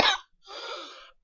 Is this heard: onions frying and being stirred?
no